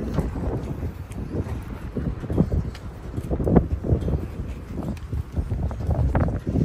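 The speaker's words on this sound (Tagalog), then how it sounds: "Ang lakas ng hangin." Strong wind buffets outdoors near a town parking area, rough low rumbling gusts that rise and fall unevenly, close and fairly loud against the microphone.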